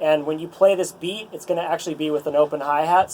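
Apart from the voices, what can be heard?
No everyday noise stands out behind the speech.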